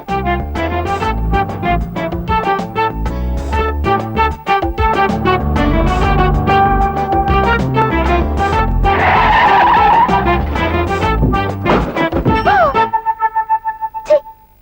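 A car braking hard for a monkey crossing the road, tyres skidding and squealing loudly over several seconds amid engine noise and impacts, ending in a sharp stop with a ringing tail.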